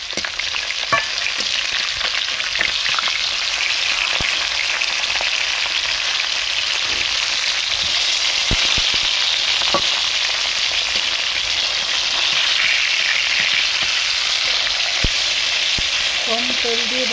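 Steady, dense sizzle of fish frying in shallow oil in a village kitchen, crackling continuously for the whole stretch with occasional sharp pops and spatters, close and fairly loud with no talking.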